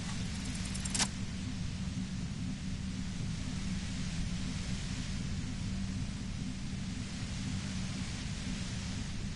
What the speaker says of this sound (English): That white noise is getting on my nerves.